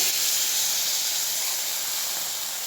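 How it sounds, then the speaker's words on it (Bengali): Water poured into a hot pan of frying vegetables for a bitter-spicy vegetarian dish, a loud, continuous steamy hiss and sizzle close by that fades only slightly over the clip. "এর মধ্যে আমি এবার দিয়ে দিচ্ছি জল।"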